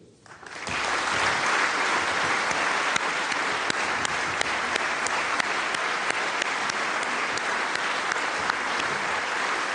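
Members of parliament give sustained applause in tribute to Nelson Mandela, a loud, even roar of many hands in a large chamber that swells quickly and holds steady for nearly ten seconds.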